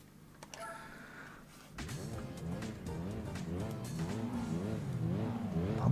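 A Lancia Delta engine in Gran Turismo 4 starts low, then revs up through the gears with a rising and falling wavering drone that grows louder toward the end, with no talk.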